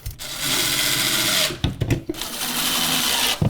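A power drill bores holes to preset screws in a DIY mudroom bench, whirring loud and close in two long bursts broken by a few short clunks.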